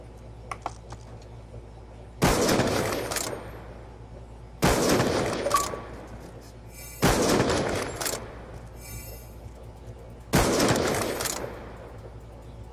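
Video game gunfire in a trap tutorial: four separate loud bursts of rapid shots, each lasting about a second, spaced a couple of seconds apart, with faint clicking between them.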